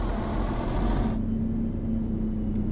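In Euro Truck Simulator 2, a Mercedes Travego bus pulls away slowly with a low, steady engine drone and rumble, loud and continuous, its broad hiss dropping off partway through while the hum carries on.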